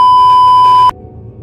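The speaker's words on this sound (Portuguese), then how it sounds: "a tela ficou cinza e foi acompanhada por um bip alto, típico de fitas de videocassete antigas" A loud, steady electronic beep from an old VHS videotape holds for just under a second, then cuts off abruptly, leaving only low background hum.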